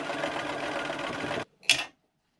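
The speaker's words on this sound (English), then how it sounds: "Then stitch that 1/4 inch seam." A sewing machine stitches a quarter-inch quilt seam in a close, steady, whirring run of about one and a half seconds, then stops, followed by one short, sharp sound.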